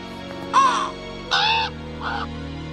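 A crow caws three times, loud and harsh at first, with the last call fainter, over a steady low hum and no speech.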